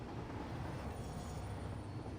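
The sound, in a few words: trains running in a video game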